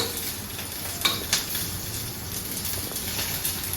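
Dried red chilies sizzle in hot oil in a pan while being fried for coconut chutney: a steady close hiss broken by a few sharp pops and crackles.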